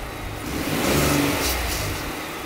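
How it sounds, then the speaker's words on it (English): A Ford Raptor pickup truck engine revs up once, rising to a throaty roar and then easing back down, close and loud. "If you go up under it, Augie, I'll let you go ahead and hit the gas pedal"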